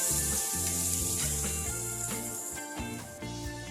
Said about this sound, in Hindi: प्याज लहसुन अदरक भून चुके हैं।